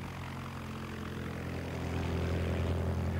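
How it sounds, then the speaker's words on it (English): The 60-horsepower engine and propeller of a 1909 Curtiss Pusher aeroplane make a steady, loud droning roar that swells slightly toward the end, with no voices. "In 1909, this Curtiss Pusher was the fastest aeroplane in the world."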